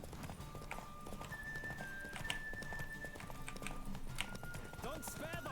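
Horse hooves clip-clop at a steady galloping rhythm in the Witcher 3 video game, continuous and fairly close under game music, with someone talking over it.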